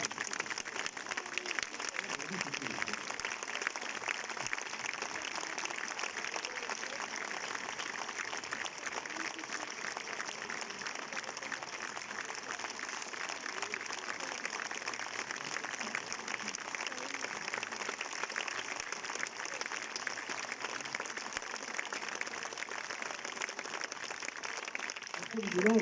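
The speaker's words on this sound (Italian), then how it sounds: "Io vorrei proprio un applauso perché sono dei musicisti." A concert audience claps for choir and student musicians in a continuous, even wash of applause with a faint, distant quality, holding at a steady level from start to finish.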